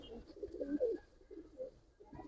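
Old-breed Giribaz pigeons coo up close in a quiet setting. A soft, faint series of rolling, throaty coos comes in short bursts with brief pauses between them.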